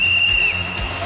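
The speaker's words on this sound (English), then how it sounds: "You can start on my whistle." A single shrill whistle blast, loud and close, held for about half a second over crowd noise at a live entertainment show.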